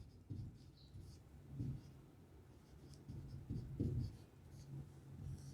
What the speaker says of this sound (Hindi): मैं इसको इधर लिख रहा हूं